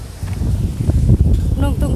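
Gusts of wind buffet an outdoor microphone with a low, steady rumble throughout, while a person talks continuously over it.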